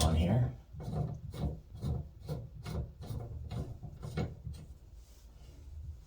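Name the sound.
threading bonnet nut onto Valley shower cartridge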